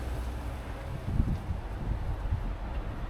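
Steady wind buffeting the microphone outdoors in a garden, a low rumbling roar with a few stronger gusts.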